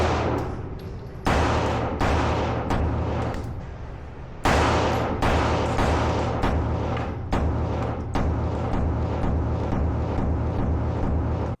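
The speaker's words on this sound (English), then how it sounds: "these are the first shots out of this optic with no adjustment whatsoever" A string of sharp handgun shots at an outdoor range through a Holosun 507 Comp Ronin Edition red dot: about a dozen loud, close cracks, each ringing out, with a longer pause early on.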